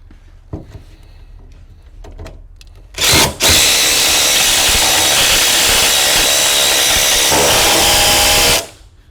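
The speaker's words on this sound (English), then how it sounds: "we're going to take our impact with the bolt and start, just like we did bolting it down" An impact driver runs bolts down to anchor a safe to the floor, with a couple of short hammering bursts followed by one long, loud, continuous rattling run that stops abruptly, preceded by quieter handling clicks.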